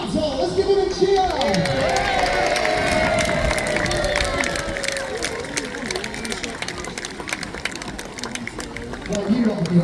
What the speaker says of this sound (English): Let's give them a cheer!